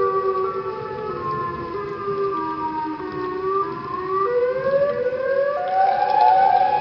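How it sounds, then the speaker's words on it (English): Siren Head from Minecraft sounding a long wailing siren whose pitch rises and falls in overlapping sweeps, loud and sustained, with no talking. "I hear it from over there, guys. I think Siren Head is over there somewhere."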